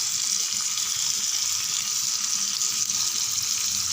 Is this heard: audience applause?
no